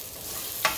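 Tortillas stirred and turned in a lightly oiled frying pan, a soft steady sizzle with one brief scraping clatter near the end, close and quiet with no talking.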